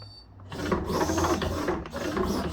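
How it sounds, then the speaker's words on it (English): A brushless speed controller resetting inside a plastic combat robot, giving bursts of whirring, stuttering mechanical buzz that pulse on and off over a couple of seconds, close and moderately loud. "I hear the brushless speed controller resetting."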